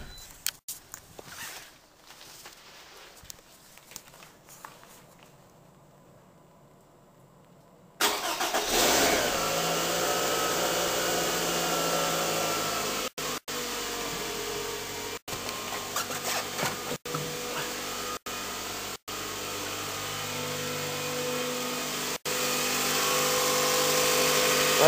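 A 2008 Toyota Scion engine idles after a cold start, a steady, fairly loud mechanical hum close by that follows quieter rustling and handling noises; a few brief dropouts break the sound.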